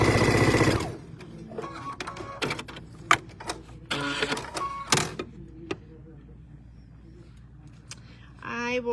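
A sewing machine stitches large pieces of fabric together for a table runner, running in rapid bursts separated by short pauses, with a voice talking near the start and end.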